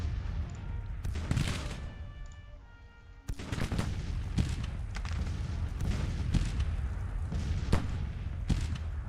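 Massed gunfire from infantry troops in the Grand Tactician strategy game, a dense, continuous rolling crackle of musket-style volleys with sharper reports standing out, loud and steady throughout with no talk.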